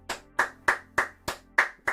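A single pair of hands claps seven times in a steady, even rhythm about three beats per second during a livestream, each clap sharp, close and loud with no voices over it.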